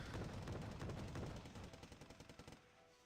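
Rapid automatic gunfire from troops in the Wargame Red Dragon strategy game, dense and loud at first, then thinning into a rhythmic burst of distinct shots.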